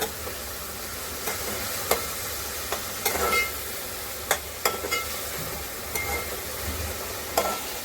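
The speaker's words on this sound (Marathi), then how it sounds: "टोमॅटो टाकायचं. मीठ टाकायचं. चांगला तेलावर परतून घ्यायचा." Tomatoes with salt sautéing in hot oil, a steady close sizzle punctuated by scattered clicks and scrapes of a spoon stirring the pan, with no voices.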